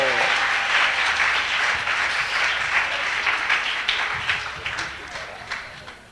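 A church congregation at a prayer service claps and cheers in a dense burst of applause that gradually thins and fades toward the end.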